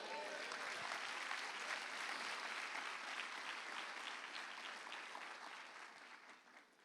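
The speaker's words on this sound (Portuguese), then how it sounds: "Dê um glória a Deus, um aplauso para Jesus." A church congregation applauds steadily for several seconds, a dense wash of clapping from many hands that fades slightly toward the end.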